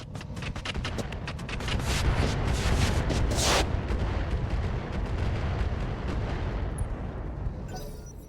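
A Rocket Pack 20 launches a volley in the mech game RogueTech, giving a dense, continuous barrage of rapid rocket blasts and explosions that stays loud for several seconds before tapering off.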